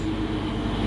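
Steady low rumble of the Minangkabau Express airport train running from Padang to Minangkabau International Airport in Sumatra, a continuous loud hum and rolling drone with no break, close by.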